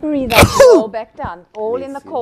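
One sharp, sudden sneeze bursts out near the start of a Pilates class, while the instructor keeps talking over it and goes on with breathing cues.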